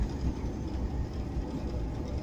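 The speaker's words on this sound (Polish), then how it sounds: "I znowu tramwaj zjeżdża." A tram rolls through a city street in central Katowice, giving a low, steady rumble with faint mid-range noise. It stays fairly quiet and continuous, with no voices.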